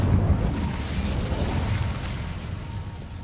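The Incendio fire spell being cast in Hogwarts Legacy, a loud, deep booming burst that opens strongly and then rumbles on with a whooshing roar, gradually easing off.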